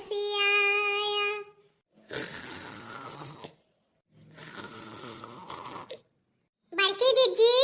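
A grandfather snores in two long, rasping, throaty breaths separated by silence. A voice comes before them and a bright, high voice follows.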